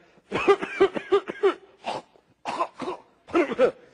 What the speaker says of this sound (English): we'd cough and hack and sputter and spit